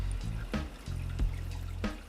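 Water pours from a Hygger hang-on-back aquarium filter as it primes, a steady trickling flow over a low hum, with a few soft splashes.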